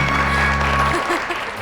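Applause for a little girl at a religious ceremony, a dense patter of clapping with a low steady hum underneath, fairly loud and close throughout.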